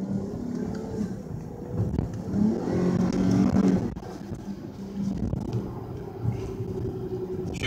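A Dodge Charger GT with its 3.6-litre Pentastar V6 revs up and pulls through the gears on the road, the engine note swelling into a throaty rise, dropping at a shift, then droning on steadily from inside the cabin.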